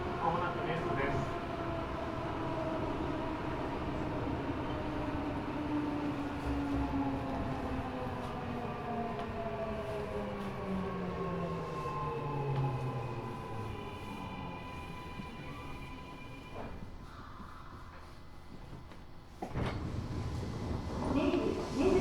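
Eidan 6000 series subway train with VVVF inverter equipment reused from the 7000 series, running on the Tokyo Metro Chiyoda Line: steady rumbling motor whine with tones sweeping in pitch as it accelerates, then slowing toward a station.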